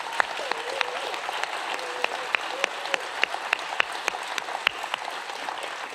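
A live audience at the Baileys Women's Prize for Fiction Best of the Best ceremony applauds steadily, with dense, sustained clapping from many hands and a few sharper nearby claps standing out.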